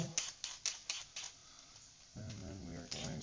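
A peeler scrapes along a butternut squash in rhythmic strokes, several short crisp rasps in a row, fairly close and quiet, then a softer rubbing sound.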